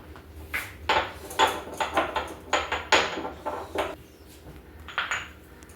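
Five or six small cardamom pods are pounded in a dry mortar and pestle for watermelon rind payesh: a dozen or so sharp, close knocks in an uneven rhythm, with a short pause before the last few strikes.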